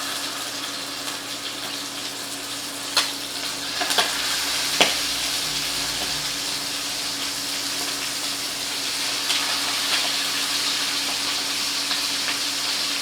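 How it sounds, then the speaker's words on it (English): Chicken pieces laid skin-side down in a hot pan for herb-roasted chicken give a steady, close frying hiss throughout, with a few brief crackles and pops rising above the sizzle. "You can hear it sizzling once I stick it in there."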